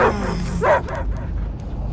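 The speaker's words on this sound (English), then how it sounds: "I hear only barking." A dog in the Marvel's Guardians of the Galaxy video game gives a quick burst of yipping barks with a whimpering edge, close and fairly loud over a low game ambience.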